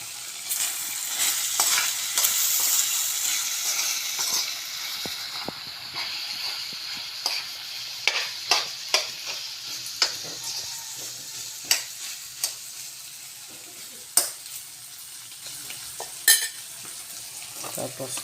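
Filipino-style sauté of an exotic mountain shellfish sizzling steadily in a pan, a continuous hiss with sharp clinks and scrapes of a stirring utensil through the middle and end.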